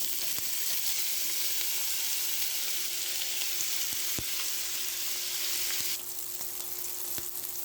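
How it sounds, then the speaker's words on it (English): Sausage fries in olive oil in a pan over medium-high heat, a steady dense crackling sizzle with a few sharper pops, easing slightly toward the end. "Now that we got our pan over medium-high heat with olive oil in it, we're going to put our sausage in."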